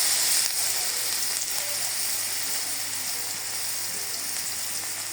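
Sliced onions dropped into hot oil in a pan after fish has been fried, giving a loud, steady sizzle that fades slightly over five seconds with no talk.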